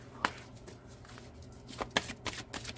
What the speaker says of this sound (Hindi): शफल करूंगी।